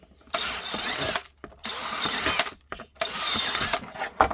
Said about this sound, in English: now I'm just going to drill